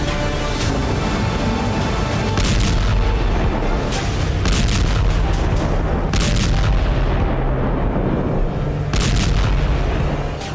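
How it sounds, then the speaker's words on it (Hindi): Explosions from Ukrainian shelling of Russia's Black Sea fleet rumble in a loud, continuous barrage, with heavy booms and bursts repeating every second or two over a dense, roaring background. "काला सागर में यूक्रेन के बारूदी शोले बरस रहे हैं"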